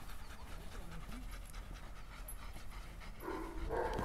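A dog pants steadily at close range during a canine training session on a leash, its breathing rhythmic under a low background hum, with a brief whine in the middle.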